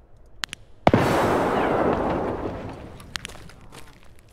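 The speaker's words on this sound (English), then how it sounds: "I'm gonna throw a grenade over." A grenade explodes in Escape From Tarkov on the Reserve map: a sharp, loud blast followed by a long, broad rumbling decay, with a few faint footsteps and small pops before and after.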